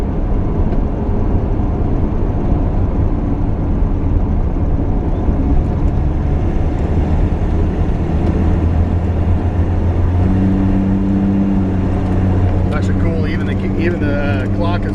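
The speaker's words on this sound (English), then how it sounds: "Great running, great driving little car." A 1981 AMC Eagle SX4 driving, a steady low engine drone and road rumble heard from inside the car, with a rising tone near the end and a person talking over it.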